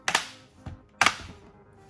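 Plastic bottom cover of an HP 15 laptop clicking into place, two sharp snaps about a second apart with a softer click between them, close and isolated.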